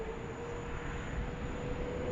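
An airplane takes off from runway 16 right at Sydney Airport during a thunderstorm, a steady, distant engine roar with a faint tonal hum running throughout.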